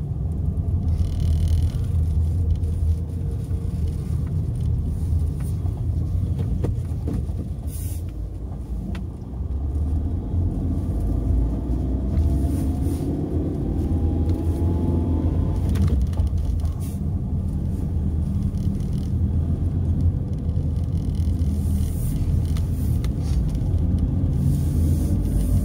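Cars and trucks sit and creep through a traffic jam on an Amalfi Coast road, a continuous close, low engine rumble with passing vehicle swells and occasional mechanical clanks.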